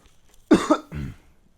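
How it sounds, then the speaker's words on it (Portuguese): A short burst of coughing, two quick close coughs followed by a softer third, in an otherwise quiet space. "Olha eu tossindo, ó."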